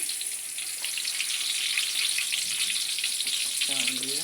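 Onions sizzle steadily in hot oil in a pan while pulao is being cooked, a dense, even frying hiss running throughout, with a brief faint voice near the end.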